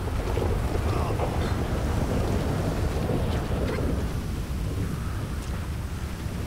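Heavy rain and thunder rumble in the video game GTA V, a dense, steady roar of storm noise with wind-like rushing throughout, loud and close.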